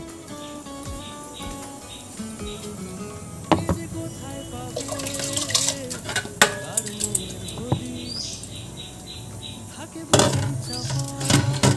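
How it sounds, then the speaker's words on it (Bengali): Rice goes into a cooking pot and gets stirred, with scattered clinks of utensil on metal, watery rattling and sharp scraping hits, including a louder burst near the end, amid outdoor background noise. "চালটা দিয়ে দিই।"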